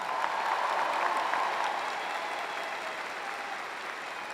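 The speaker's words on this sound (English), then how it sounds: "Let's give them all a round of applause." Sustained applause from a large audience honoring graduates at a university commencement ceremony, a steady dense wash of clapping that holds evenly and then slowly eases in level.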